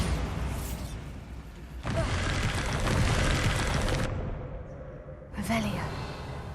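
The Bombarda spell goes off in Hogwarts Legacy as a loud, roaring blast that lasts about two seconds. A second, shorter burst follows, all over steady game ambience.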